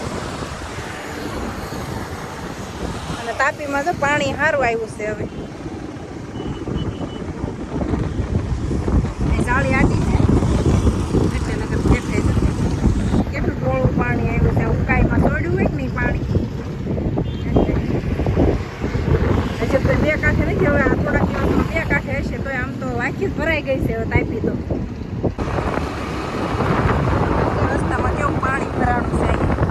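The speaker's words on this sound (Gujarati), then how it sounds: "અવાજ એ આવતો છે અહીં પવનનો વાહનનો વધારે" Strong wind buffets the microphone on a bridge over the Tapi River in Surat while vehicles rumble past nearby, with a person speaking over the steady roar.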